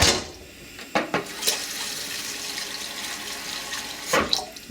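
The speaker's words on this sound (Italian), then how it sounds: "aggiungiamo anche un po' d'acqua" Water from a tap runs into a cooking pot for penne rigate in a meat broth, a steady splashing pour with a few louder bursts near the start and end, no voices.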